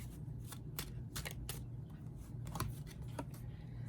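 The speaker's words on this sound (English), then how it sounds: "Let's pick a card for the rider." Tarot cards are shuffled with quick, soft riffling flicks in irregular bursts over a low steady hum, close by and with no talking.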